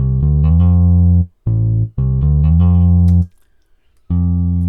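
Modo bass in Logic Pro X plays a punchy sequence of deep synthetic notes, some bending upward into their natural pitch, in short sixteenth-note groups with brief gaps, loud and dry.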